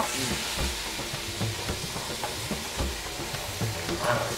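Dried red chillies and curry leaves sizzle hard in hot oil for a hotel-kitchen sambar tempering alongside mustard seeds and cumin, a dense, loud, continuous crackle with busy popping throughout, close up and without speech.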